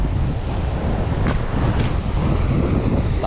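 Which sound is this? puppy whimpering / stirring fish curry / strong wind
strong wind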